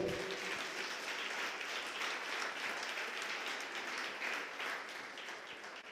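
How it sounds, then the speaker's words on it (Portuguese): A church congregation claps together during a sermon, a dense, even wash of applause that holds steady and only slightly fades toward the end. "Você pode aplaudir o Senhor?"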